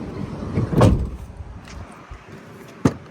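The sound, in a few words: sliding side door of a 2025 Ford Transit 350 van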